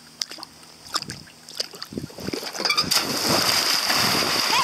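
Water splashes and sloshes in irregular bursts at first, then swells into a continuous churning rush close by.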